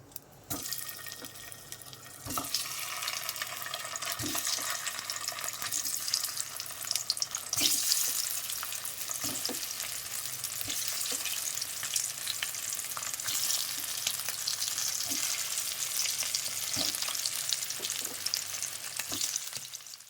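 Boiled potatoes fry lightly in a pan for an egg curry, a steady close sizzle with occasional stirring scrapes and clicks throughout, no voices.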